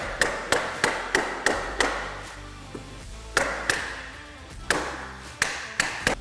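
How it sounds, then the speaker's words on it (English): An air hammer taps a scratch-resistant half windshield into place on a Can-Am Maverick, short sharp blows in quick rhythmic bursts, close and loud, with brief pauses between runs. "I'm going to be using a air hammer here"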